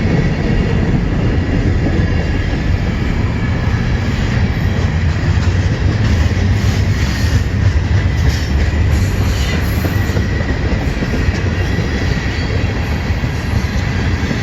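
A CN M383 westbound freight train rolls past on a rail line in the New Haven area, a loud, continuous close rumble of wheels and cars with steady clatter throughout.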